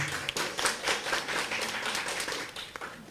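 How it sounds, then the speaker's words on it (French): A small crowd claps and applauds, a dense patter of hands that stays fairly even for a few seconds. "Applaudissez pour lui s'il vous plaît."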